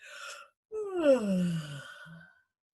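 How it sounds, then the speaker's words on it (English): A short breathy exhale, then a long drawn-out yawn sliding down in pitch and fading into a soft sigh, close and clear. "A big yawn. Yawn through your register."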